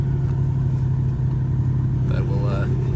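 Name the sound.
GMC Caballero engine running after sitting 20 years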